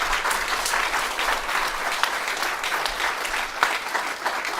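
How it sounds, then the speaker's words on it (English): A live audience applauds steadily for the tech operator at a wrestling-themed comedy podcast show, a dense, sustained wash of clapping from a full room with sharper individual claps popping out now and then. "we're going to get a round of applause for Ash doing our tech here tonight"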